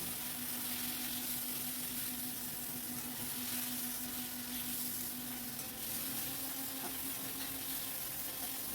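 Ground cumin paste sautéing in a hot pan, a soft, continuous sizzle with faint occasional stirring scrapes, fairly quiet and steady throughout.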